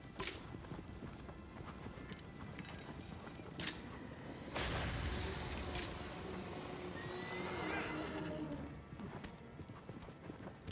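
Horse hoofbeats in Shadow of the Colossus, a steady clip-clop gallop with a brief whinny, play loud and continuous while a person talks over them.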